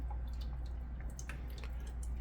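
Tomato juice drips from a tomato processing machine in scattered, irregular soft plinks over a steady low hum, faint and close, with no voices.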